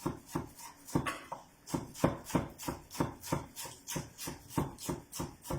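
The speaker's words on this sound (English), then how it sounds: "I'm just going to chop my spring onions" Knife chopping spring onions finely on a board, a steady run of about twenty crisp, evenly spaced chops, close and clear with no talk.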